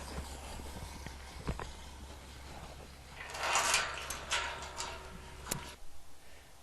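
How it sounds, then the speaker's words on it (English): Bucking horses walk on hard ground, their hooves clip-clopping in scattered knocks that come a little closer and louder toward the end, with no voices over them. "These bucking horses are calmer, but they're still a little wild."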